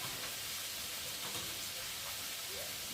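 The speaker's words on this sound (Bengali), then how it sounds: "আর এখন আলু আর পেঁপেটা ভালো করে ভেজে নেবো" Potatoes and papaya frying with spices in a pan, a steady soft sizzle and hiss, faint and continuous with light stirring.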